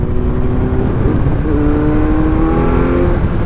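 A 2022 Kawasaki Z900 motorcycle with an aftermarket silencer, its engine droning loud and close, the pitch climbing as it revs.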